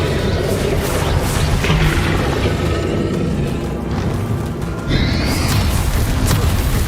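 A Bombarda explosion spell going off in the Hogwarts Legacy video game: a loud, dense blast of booming, crashing noise that fills the whole stretch, dipping briefly before a fresh burst near the end.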